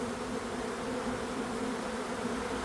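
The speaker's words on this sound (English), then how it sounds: "the nurse bees will be able to come up and take care of the fresh brood that's on the top" Honey bees inside an open beehive during a colony split, a dense continuous buzzing hum close by, steady and unbroken, with no voices.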